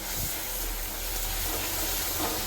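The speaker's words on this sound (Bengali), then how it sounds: "এবার লাল লাল করে কষাবো দেন মাছগুলো ছাড়বো" Loita fish fry in spiced oil with turmeric, making a steady, dense sizzle and hiss throughout, close and even, with no talking.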